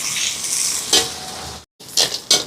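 Onions, curry leaves and garlic sautéing in a pan, a close, loud hissing sizzle with stirring scrapes and a brief drop to silence before the frying resumes.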